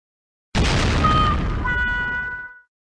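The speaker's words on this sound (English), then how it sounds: "Consumer fireworks are very dangerous." Consumer fireworks exploding in a single loud, close burst that rumbles and crackles for about two seconds before cutting off, with no one speaking.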